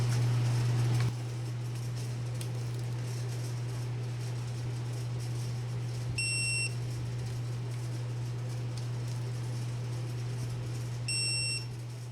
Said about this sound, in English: We'll double check with the torque wrench.